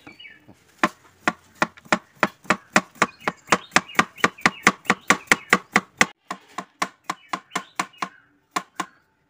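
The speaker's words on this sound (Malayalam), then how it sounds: "ആദ്യം നമുക്ക് കുക്കമ്പർ നൈസായിട്ട് കട്ട് ചെയ്ത് കൊടുക്കാം" A knife chops cucumber finely on a board in a fast, steady run of about thirty crisp, close strikes, slowing and spacing out toward the end, with no talking.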